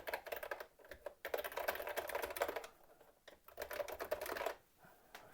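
Rapid, irregular typing on a Coleco Adam computer keyboard in bursts, with brief pauses between runs of keystrokes; close and clear, no voices.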